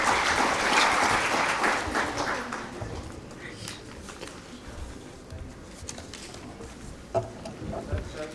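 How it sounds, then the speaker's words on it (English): Delegates at the inaugural session of a hospitality HR summit clap in a burst of loud applause that fades after a few seconds into a quieter room with scattered sounds. "May we have a huge round of applause, please?"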